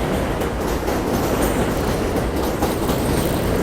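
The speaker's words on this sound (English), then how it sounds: "Hold on, there's a train coming." A train passes close by near a bridge with a loud continuous roar and a rhythmic clatter of wheels on the rails throughout.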